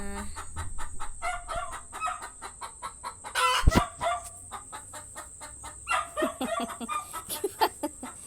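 Backyard chickens cluck steadily at feeding time, with a rhythmic run of short, close calls, a sharp louder squawk midway, and a possible rooster crow, all without talk.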